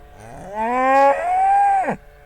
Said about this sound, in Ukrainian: Ого, яка гучна корова.